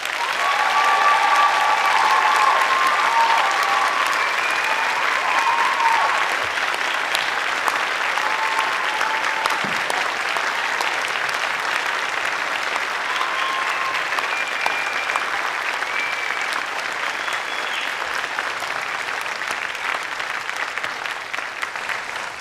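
Sustained applause from a large crowd at a university graduation ceremony, honoring the staff, with steady dense clapping filling the hall for over twenty seconds and easing slightly toward the end.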